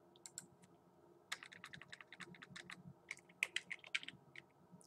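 Typing on a computer keyboard while entering a folder name, with bursts of quick, close, light key clicks at an irregular rhythm and short pauses between them.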